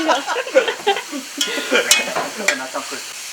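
A roast sizzling and crackling in a hot pan, with scraping and stirring sounds breaking through at intervals, close by.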